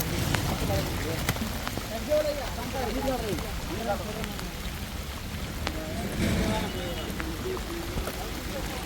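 Steady rain patters on a surface with continuous wash, while voices and clunks sound underneath and a brief whistle-like tone rises midway.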